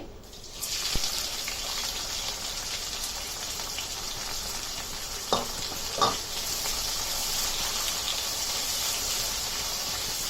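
Onions sizzle in hot ghee with garam masala and cumin for a Konkani country-chicken meal, a steady close frying hiss throughout with a couple of brief stirring clatters midway; no one speaks.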